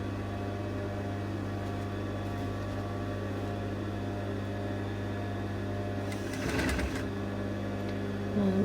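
A sewing machine stitches a tulle French seam on a cloud sleeve, running with a steady, close mechanical hum and whir throughout, briefly rattling louder near the end, with no talking.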